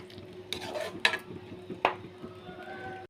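A spoon stirs raw mango pieces into a simmering fish tamarind curry in a pot, with a few clinks and scraping strokes against the pot over a faint low hum, fairly quiet and close.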